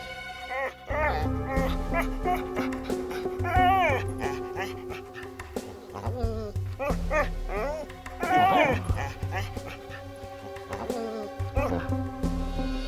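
An injured dog whimpers and yelps in a dramatic Hindi TV scene, its high wavering cries rising and falling repeatedly over a steady bed of music and sustained tones, fairly close and prominent throughout.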